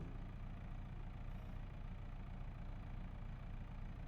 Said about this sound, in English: Turn off the engine.